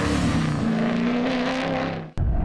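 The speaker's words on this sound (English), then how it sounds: "Let's look one more time at his almost perfect drift." A drift car slides through a drift run with its engine revving loud and steady in a sustained whining rise, close and loud, before the sound cuts off abruptly near the end.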